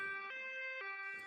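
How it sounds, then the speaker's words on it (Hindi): A cartoon ambulance siren in a Hindi children's story wails in a steady two-tone alternation, high and low pitches switching every half second, loud and clear with no talk over it. "एम्बुलेंस लाडो को लेकर अस्पताल की तरफ निकल पड़ती है।"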